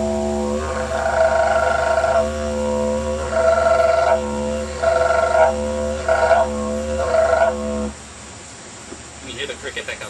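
A didgeridoo played to imitate a cricket, a droning drone broken into five rhythmic, chirping pulses with a vocalised high tone, loud and close, ending with brief quieter sounds.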